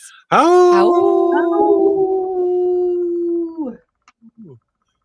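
Several voices imitate wolf howls in three-part harmony, a long sustained chorus of steady pitched tones rising together, holding for about three seconds, then breaking off into a few short yips and sounds at the end.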